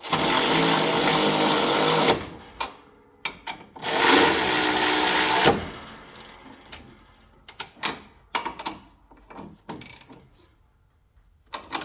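Pulley bolts are tightened on a John Deere D105 riding mower, two loud sustained whirring bursts of a power driver followed by scattered close clicks and metallic knocks as the work continues.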